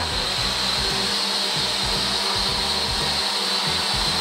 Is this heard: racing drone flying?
yes